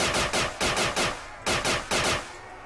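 Pistol fire in Black Ops 2 nZombies, a video game: about nine sharp, loud shots in uneven quick pairs and singles, close up and with nothing else under them.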